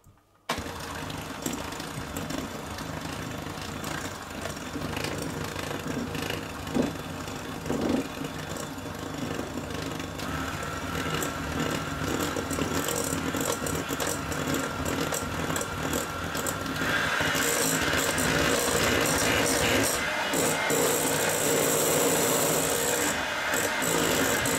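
An electric mixer whirs through tiramisu coffee cream, a steady close motor drone with scraping texture that grows louder and brighter partway through and runs without talk.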